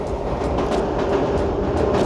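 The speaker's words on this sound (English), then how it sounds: "That's the train." A train rumbles past close by, a loud, continuous low roar with faint rhythmic clacking of the cars and no talk.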